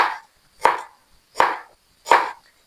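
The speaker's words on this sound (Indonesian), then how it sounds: "Ini aku untuk bumbu rebungnya ini mau diiris aja lah ya yang praktis" Knife slicing through bamboo-shoot seasoning on a cutting board, four crisp, evenly spaced cuts, close and loud against silence.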